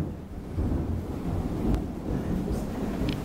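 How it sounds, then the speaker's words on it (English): Thunder from a stormy Saturday morning rolls low and heavy through several seconds, mixed with wind buffeting the microphone and light rain. "That lightning is bad, y'all."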